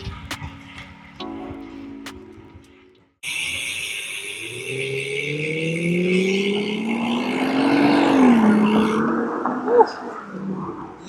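An Aston Martin DB9 Vantage with a full rear spoiler drives past on an Australian road, its engine swelling loud and near, rising in pitch as it accelerates by, then tailing off; no talk over it.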